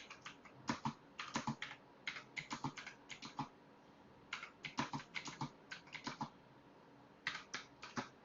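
Code being typed on a computer keyboard, quick clusters of crisp key clicks in irregular bursts with short pauses between, close and fairly quiet, with no talk.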